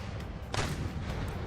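Gunfire from troops in a video game battle set in England, a sustained low rumble with a louder burst of shots near the middle, heard alone without talk.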